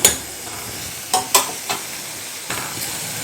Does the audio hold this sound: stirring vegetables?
yes